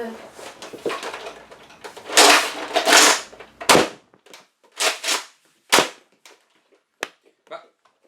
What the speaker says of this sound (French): double shot, donc ça tire 2 billes à chaque fois.